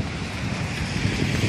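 Steady, rushing wind buffets the microphone with low rumbling gusts, continuous and fairly loud throughout, with no voices.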